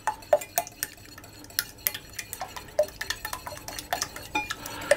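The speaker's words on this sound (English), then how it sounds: "I'm going to whisk that into the eggs very slowly to start with" A whisk clinks and scrapes against a bowl as hot milk is beaten into eggs, giving quick, irregular, close taps and rattles with no talking.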